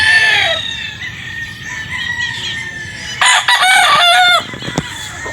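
A Sweater Boston gamefowl rooster at a Batangas game farm crows nearby, a loud drawn-out call, followed by a second burst of crowing and clucking from nearby birds.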